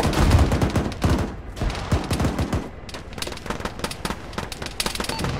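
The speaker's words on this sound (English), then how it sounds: "You're taking direct fire, Cappy, just FYI." Rapid bursts of automatic gunfire in the military video game Arma, dense crackling volleys that come and go through the clip, loud and near, with scattered single shots between the bursts.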